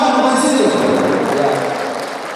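An audience at a Halal Bi Halal member gathering in a hotel function room claps loudly at first, a dense wash of hands that slowly thins and fades, with speech mixed in.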